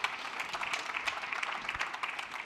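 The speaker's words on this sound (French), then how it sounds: "On peut l'applaudir" A room full of people applauding at an awards ceremony, a steady patter of many hands at moderate loudness from a short distance.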